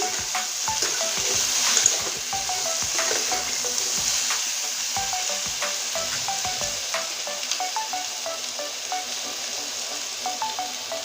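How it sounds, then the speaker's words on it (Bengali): Potatoes sauté and fry in a pan with a constant close sizzle, punctuated by repeated light metallic scrapes and clinks from stirring throughout. "ওটা এখন সুন্দর করে কষিয়ে নেব এই দেখুন আলুটা অনেকটাই আমি ভেজে নিয়েছি"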